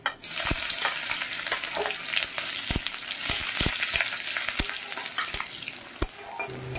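Crushed garlic fries with black cumin and green chili in hot oil, giving a close, steady sizzle punctuated by sharp clicks and scrapes of a spatula against the pan.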